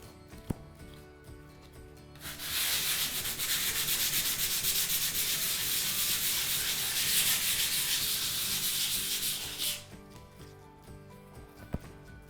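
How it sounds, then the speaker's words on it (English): Powder filler being abraded by hand in a circular motion: a steady, close, dry rubbing hiss that begins after a quiet lead-in, runs continuously for about seven seconds, then stops abruptly. "when you're going to abrade, you're going to abrade in a circular motion"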